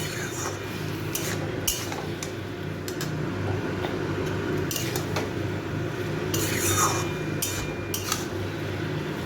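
Banana flower being stirred with spice mix in a pan for a vegetarian mochar ghonto with coconut and chickpeas, giving steady scraping and clinking of a spoon against the pan, close and continuous, with no talk.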